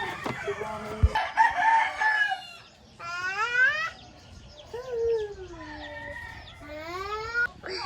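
A rooster crows repeatedly at a rural holiday spot in Pangasinan, each long rising call clear and fairly close, broken by shorter clucks and a brief bump, with quiet gaps between the calls.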